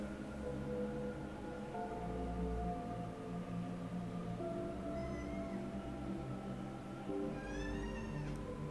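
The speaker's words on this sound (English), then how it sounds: "Hi, random meow cat." A cat meows softly a few times in the background, faint and high, under a steady bed of game music and hum.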